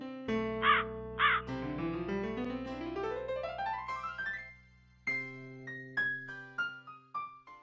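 Crow caws in a children's animated cartoon: two short, harsh calls near the start, followed by bright cartoon music with rising tones and a few more chirpy accents.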